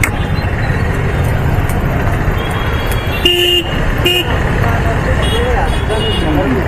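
Busy road traffic heading toward Charminar in Hyderabad, heard from a bike taxi: a continuous engine and road rumble with several sharp car horn toots in the middle, close and loud, with voices talking over it.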